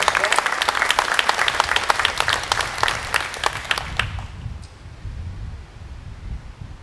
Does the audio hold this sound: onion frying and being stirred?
no